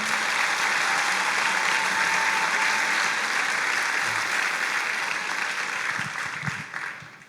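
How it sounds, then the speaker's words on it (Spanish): A church congregation applauds in a dense, sustained burst that holds steady for several seconds before gradually thinning out toward the end, with a few low murmurs underneath. "Le damos un aplauso al Señor por eso."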